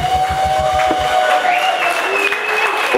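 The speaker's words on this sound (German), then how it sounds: "Nochmal einen riesen Applaus" A Viking festival audience at Elschbach applauds steadily, with dense rapid clapping close by and a faint sustained tone running through it, and the clapping thins out over about three seconds.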